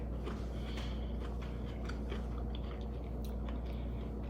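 Someone bites and chews home-canned pickled radishes close to the listener, with crisp crunches scattered over a steady, noisy background hum.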